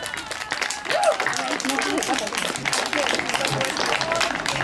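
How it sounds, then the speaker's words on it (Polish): Applause from an audience greets the winner of the Jukundus 2019 church song contest, a dense steady patter of claps running throughout with a faint voice briefly audible beneath. "brawa dla niej!"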